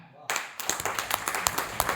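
Audience clapping breaks out abruptly at a gathering honouring a platform's creator, a close, crisp run of many hands with distinct sharp claps standing out in an irregular rhythm.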